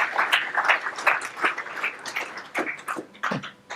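Audience applause after a talk at SwiftConf 2017, a steady patter of many hands clapping at moderate distance, uneven and lively throughout with no voices on top.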